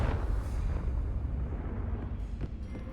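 A Confringo fire spell bursts in Hogwarts Legacy, a loud, dense low rumble of explosion that holds steady throughout, with a sharper crack near the start and a fainter burst toward the end.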